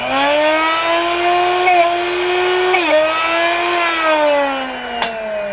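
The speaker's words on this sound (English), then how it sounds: "And then this device actually pulls back, so you'll hear this. We'll do it. We'll get about two grinds on it." A Darex Drill Doctor 750SP sharpener grinds a drill bit with a steady, loud whine that dips and rises in pitch over a few seconds, carrying short scraping clicks as the bit turns against the wheel.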